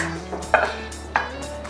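Spicy chicken wings coated in cornflour are dished out of a hot pan, giving two sharp metallic clinks of a utensil against the pan over a low steady hum.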